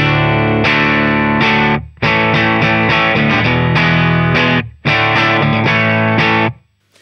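Electric guitar played straight into an amplifier with the pedalboard bypassed, giving a dry clean tone with no reverb; sustained chords ring in three loud phrases separated by short gaps, heard alone without talk.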